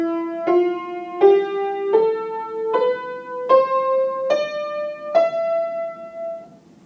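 Eight single notes climb one by one from E up to the E an octave higher in the Phrygian mode, each plucked tone ringing clearly and evenly spaced, with the last note sustained and fading.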